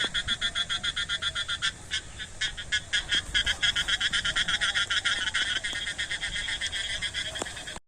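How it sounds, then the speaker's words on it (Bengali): A dense chorus of frogs croaks steadily from a waterlogged field after rain, many overlapping pulsing calls close by that keep going without a break. "সুন্দর ব্যাঙের ডাক"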